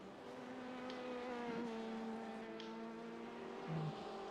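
Race car engines drone steadily in a Sebring 24 Hours racing video game, a faint sustained engine tone with shifting pitch, a couple of brief ticks and a short higher revving blip near the end.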